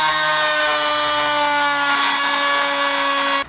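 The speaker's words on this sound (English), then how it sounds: "A must-have for anyone's Dremel collection: the quick release cutting wheels." A Dremel quick-release cutting wheel grinds through a threaded sleeve on a turbo wastegate actuator, producing a loud, steady high-pitched whine that holds for about three and a half seconds before cutting off abruptly, close up with no voices.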